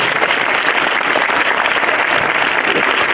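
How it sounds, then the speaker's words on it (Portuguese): Festival audience applauding in a dense, even wash of many hands clapping at once, sustained and fairly loud with no voices over it. "pedir-vos uma enorme salva de palmas para eles, que foram excelentes"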